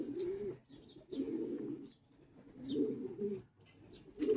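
Quality pigeons kept for breeding and sale cooing in repeated low throaty bursts, several calls in a row with short pauses, fairly close, with faint higher chirps overhead.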